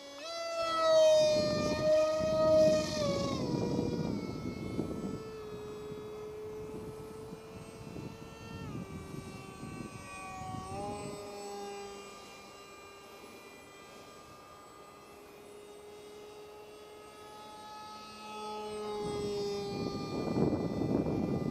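An RCP F18 V3 radio-controlled jet with a Zoom 450 motor flying slowly at low throttle, its whining tone rising and falling as it passes, swelling loud near the start and end and fading farther off in between.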